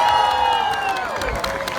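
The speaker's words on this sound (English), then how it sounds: "I want to hear a big round of applause for Ulysses." Crowd cheering, whooping and clapping in a SeaWorld stadium for Ulysses the orca, a loud burst of mixed shouts and applause from the stands, with a tonal whistle-like sound sliding down early on.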